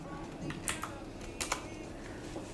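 Keys clicking on a computer keyboard during a BIOS update, a few sharp, close taps over faint background hiss.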